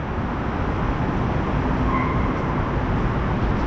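A metro train rumbles at a station in a steady, loud roar with a faint tonal whine rising briefly in the middle.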